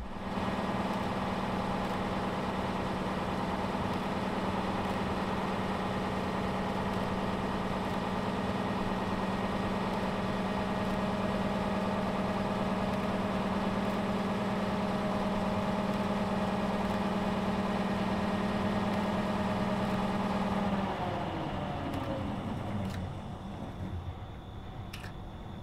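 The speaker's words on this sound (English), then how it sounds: "That was pretty cool watching that spin around and hearing it spin around. Amazingly precise motors that these huge dishes" Motors slewing a huge radio telescope dish at night, a steady close droning hum with a strong low tone that runs unbroken for about twenty seconds, then winds down and fades near the end.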